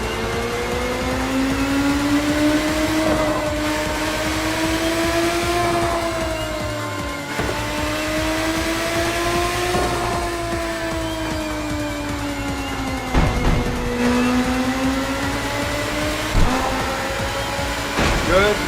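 A racing car's engine roars on continuously in the video game Tokyo Xtreme Racer, its pitch climbing and dipping in long sweeps as it shifts through gears, loud and steady with a few brief mechanical clunks.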